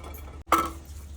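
A metal bowl and sieve set into a cooking pot before steaming amla for murabba: one bright metallic clink after a brief pause, ringing out quietly.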